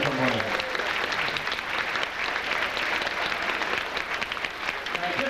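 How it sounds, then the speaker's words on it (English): An audience at an evening gathering at St Mary's Chapel, Greencastle, Newtownabbey, breaks into steady, full applause, dense clapping that carries on throughout at an even level. "I'd like to give her a really big, wonderful round of applause here from Maureen."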